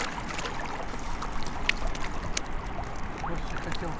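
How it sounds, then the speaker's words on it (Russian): Steady broadband rush of a waterfall in a forest in the Swedish mountains, heard from a boat moving on the water, a continuous wash with faint splashes and no clear talk. "Тут в лесу водопад шумит."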